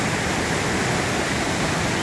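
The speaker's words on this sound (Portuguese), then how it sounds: "um pouco aqui da nossa cachoeira quando chove bastante e desce aquela famosa cabeça d'água" A waterfall flowing heavily after rain, swollen with a surge of floodwater, roars as a steady, dense, close wash of rushing water with no pauses and no voices.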